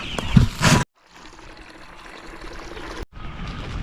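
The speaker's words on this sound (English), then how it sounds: "Give them some water" A brief clatter, then water pours steadily into a drinker for two-week-old chicks in a soft trickling stream, close and fairly quiet, ending abruptly.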